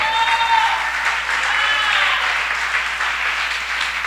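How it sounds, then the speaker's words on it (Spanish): Church congregation applauding the Lord during a sermon, a sustained, even wash of clapping from many hands, with faint voices calling out near the start. "los salvos le damos un aplauso al Señor"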